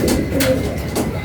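Racing pigeons arriving at a loft during a race, with a few close, loud bursts of wing flapping and a soft cooing underneath, heard alone without talk.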